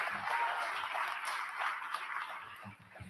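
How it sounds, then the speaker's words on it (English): An audience claps at a college commencement ceremony. The applause is steady and fairly faint, a continuous spatter of many hands heard from a distance, tapering slightly toward the end. "So we applaud and thank Misha, even in absentia"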